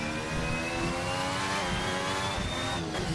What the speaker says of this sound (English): you hear the turbo, the MGU-H spooling the turbo up, and then the engine noise kicks back in at higher revs